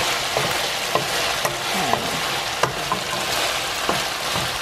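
Garlic fries in hot oil alongside browning chicken pieces for tinola, a close, steady sizzle broken by a few sharp pops and stirring clicks.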